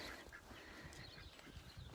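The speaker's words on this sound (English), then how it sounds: "So there's some more ducks for you." Several ducks quack in a steady, overlapping chorus from inside the outer part of a backyard coop, close and fairly loud throughout.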